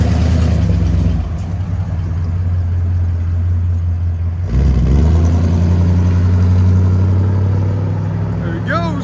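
A 1955 Ford Crown Victoria with a 292 V8 and Flowmaster Flow FX exhaust rumbles nearby with a deep, loud burble, rising in a rev midway and holding strong; voices talk faintly over it.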